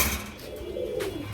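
Pigeons, including a silver-lined pigeon with a green neck, coo steadily and close by in a loft with other birds.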